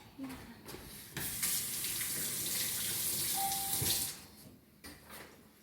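Tap water runs into a kitchen sink for about three seconds while pumpkin halves are rinsed. It is a faint, steady splashing hiss framed by quieter handling clatter.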